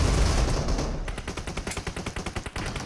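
Automatic gunfire from a team deathmatch video game: a loud burst, then a rapid, evenly spaced string of shots that runs to the end.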